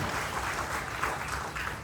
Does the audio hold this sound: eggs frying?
no